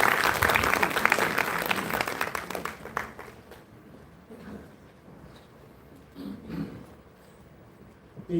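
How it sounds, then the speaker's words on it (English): Loud conference audience applause fills the opening seconds, a dense burst of clapping that thins and fades to scattered claps and room murmur, with a few late claps near the end. "So, can I have a round of applause for Dr."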